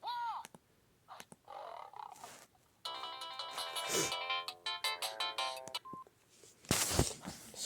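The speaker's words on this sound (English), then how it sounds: "let's just change the ringtone to what it was." A Samsung SGH-X450 mobile phone plays a tonal, beeping ringtone in short melodic bursts nearby, with scattered clicks and noises between the phrases.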